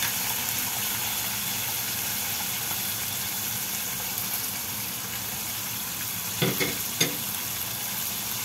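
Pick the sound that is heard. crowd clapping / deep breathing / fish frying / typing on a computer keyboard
fish frying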